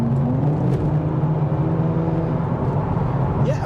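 A 2023 Nissan Z Limited Edition sports car, shifted down in manual mode, pulls hard with a steady rising engine drone heard from inside the cabin, loud and continuous throughout.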